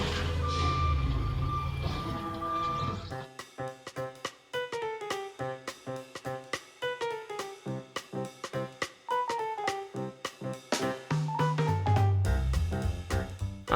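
A garbage truck backs up, its reversing alarm sounding a long run of regular, evenly spaced beeps, clear and fairly close, after a few seconds of rumbling engine noise at the start.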